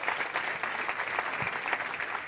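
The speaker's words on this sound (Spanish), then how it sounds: "Un aplauso para todos." An audience applauds steadily for about two seconds at a Spanish gathering honoring caregiving families, the clapping dense and even at moderate volume with no pause.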